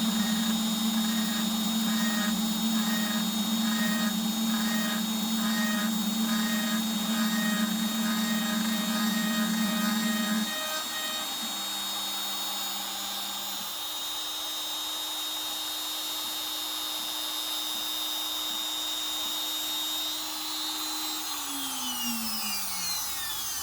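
A guitar neck being machined, one thou cut away: a steady high machine whine with a strong droning tone, shifting pitch partway through and then winding down near the end, without talk.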